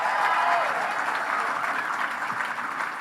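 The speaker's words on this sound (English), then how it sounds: "So give Carol a big round of applause." A dinner audience at the LCV Capital Dinner breaks into sustained applause, dense and steady, loudest at the start and gradually easing, with faint voices mixed in.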